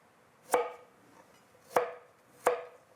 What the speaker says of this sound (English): And then I'm gonna cut this in kind of matchsticks.